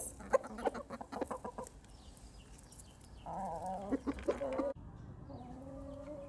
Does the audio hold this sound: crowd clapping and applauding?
no